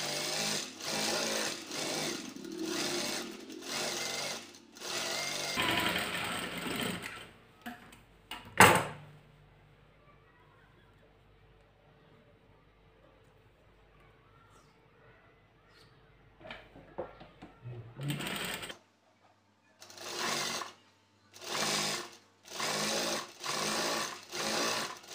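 A sewing machine stitching a blouse seam, fast rhythmic mechanical runs in bursts, stopping for a long quiet pause with small handling noises before resuming in short stitching spurts.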